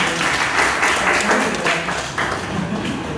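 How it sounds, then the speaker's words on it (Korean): A church youth-group congregation breaks into loud, sustained applause, many hands clapping together at close range throughout. "들어갈 때 다 같이 또 큰 박수 한번"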